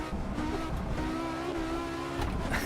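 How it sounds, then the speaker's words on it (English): Audi S1 E2 Quattro Group B rally car in the Assetto Corsa racing game: an engine droning with quick throttle blips and revving, short and fairly loud, with a brief rising rev midway. "He's hearing me stabbing at the throttle."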